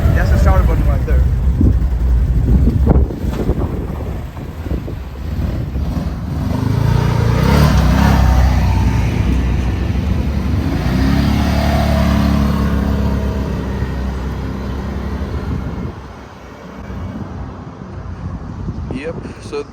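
An AODES Pathcross 1000L ATV with a 1000cc engine cranks and then revs, building to a loud, rough roar that lingers before easing off, with wind buffeting the microphone.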